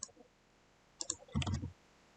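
A computer mouse is clicked several times while editing a document in Word, giving a few faint, sharp clicks spread over two seconds, followed by a brief low thump.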